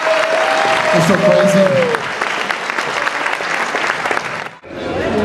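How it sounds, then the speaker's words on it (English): Applause and crowd noise fill a room at a Beatles fan festival, steady and fairly loud, with people talking over it before it cuts off briefly near the end. "Let's give him a nice round of applause"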